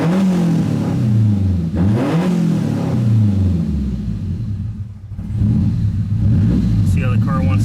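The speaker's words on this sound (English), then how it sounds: "Let's see if the blow-off valve opens." A Nissan Silvia S14 Zenki turbo engine, warmed up from an idle near 800 rpm, is revved close by in repeated rising and falling blips, loud and rumbling, with a brief dip toward stalling before it revs again.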